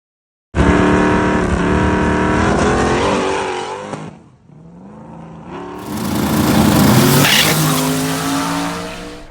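A car launches hard and breaks traction, its engine revving loud with tires spinning and squealing, a brief dip before a second surge of wheelspin and screeching tire noise.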